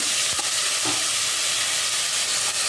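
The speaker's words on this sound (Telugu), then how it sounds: "కరివేపాకు, పచ్చిమిరపకాయలు, ఉల్లిపాయలు వేసాను అన్నమాట." Curry leaves, green chillies and onions fry in about five tablespoons of hot oil, a steady loud sizzle with brief stirring scrapes near the start, continuous and close with no voices.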